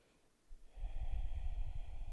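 A slow, deep breath taken during a yoga pose begins after a short quiet moment, a close, breathy rush of air that swells and holds steady to the end.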